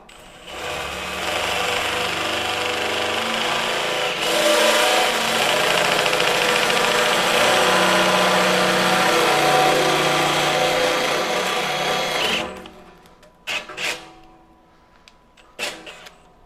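A power drill running a Hercules cobalt step drill bit through a workpiece: a loud, steady high whine that shifts in pitch as it cuts for about twelve seconds, then stops, followed by a few clattering knocks.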